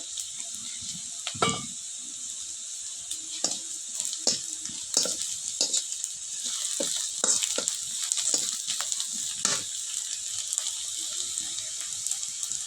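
Onion and gram flour fritters frying in oil, a steady bright sizzle with scattered pops and clinks of a utensil throughout, no talking.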